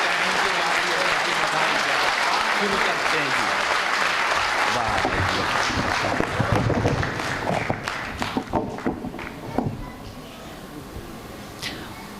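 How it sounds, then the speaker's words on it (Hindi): An audience at a Hindi comic poetry gathering in Jodhpur claps loudly in a dense burst of applause that gradually thins out into scattered individual claps toward the end. "आगे से पीछे तक एक बार हाथ उठाकर जोरदार तालियां बजाकर"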